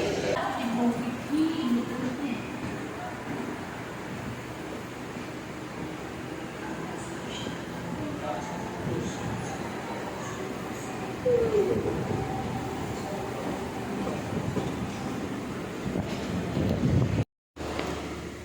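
Steady rumble and rush of a moving Mumbai suburban train between Chunabhatti and Chhatrapati Shivaji Terminus, with wind-like noise and faint background voices over a long stretch.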